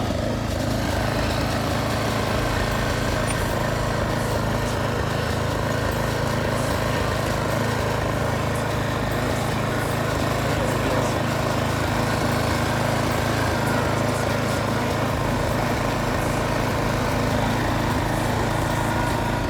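A self-propelled lawn mower pushed uphill drones loudly and steadily up close, its engine a continuous rumbling hum with no letup.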